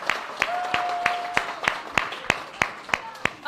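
Children clap in a steady, slow rhythm of about a dozen sharp, evenly spaced claps at a community reading event, fairly near, with faint voices underneath.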